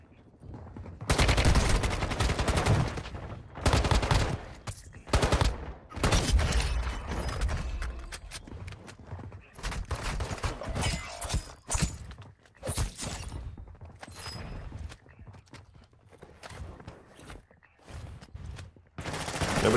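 Gunfire in the video game Warzone Mobile: repeated loud bursts of automatic and single shots crackle in irregular clusters across the whole stretch, with only occasional brief talk between them.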